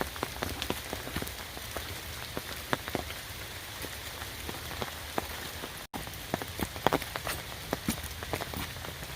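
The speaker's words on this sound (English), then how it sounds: "I don't know if it's because the rain has slowed down" Rain falls steadily on a wooded forest trail, a dense patter of drops with scattered sharper splats and occasional footstep-like knocks, no voices.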